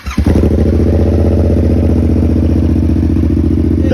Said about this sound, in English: I'm gonna let it warm up for a bit so I can start revving it